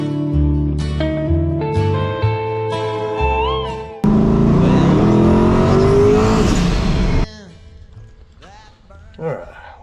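Turbo LS-powered race car driven on a public street, engine revving and rising in pitch through gear changes, loud and close, then dropping back to a lower idle-like drone toward the end; a voice is heard speaking over it.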